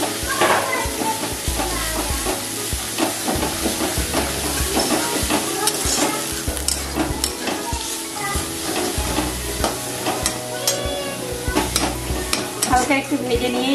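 Pointed gourd being lightly fried and stirred in a pan, with steady sizzling and repeated scraping strokes of a spatula; a voice and other people can be heard faintly in the background.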